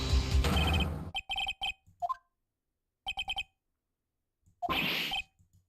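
A telephone rings inside a video game, several short electronic trill bursts repeating in quick clusters, loud and close, with other game sounds in between and no talk over the rings.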